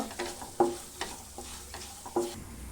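Poppy seeds and cashews fry quietly in a pan, a faint sizzle broken by several soft scraping stir strokes at irregular intervals, close and with no voices.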